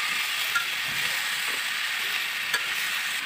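Chopped tomatoes and ginger fry in a pan for a Bangladeshi tomato-and-egg dish, a steady close sizzle with occasional scraping clicks as a spoon stirs them.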